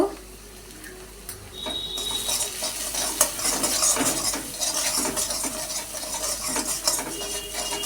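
Vegetables with salt, turmeric and ginger paste sauté in a pan, a steady sizzle under repeated scraping and stirring strokes of a utensil against the metal, close and moderately loud.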